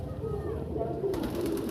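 Pigeons in a loft cooing softly, low rolling coos close by with some background chatter from a person.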